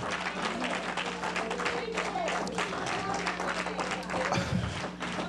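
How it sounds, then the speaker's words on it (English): A church congregation claps together in a dense, continuous wash with crowd murmur and voices underneath, set over a steady low hum. "Just clap for Jesus."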